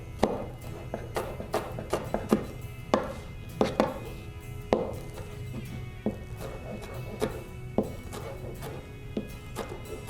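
A knife slices green onions (scallions) at a slight angle on a cutting board, giving a steady series of sharp, close taps with short pauses between strokes.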